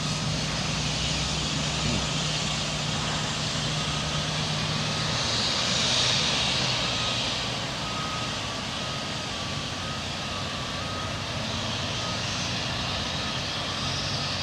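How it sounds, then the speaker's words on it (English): Jet blast from an aircraft engine on the cargo apron at East Midlands Airport, a steady broadband roar with a low rumble, constant and loud throughout, swelling slightly midway, with no one talking. "I think I'm going to get a jet blast."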